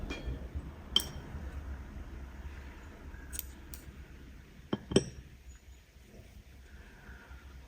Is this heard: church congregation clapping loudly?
no